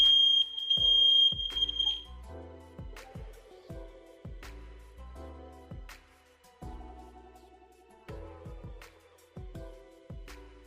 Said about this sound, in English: we're doing fire alarm tests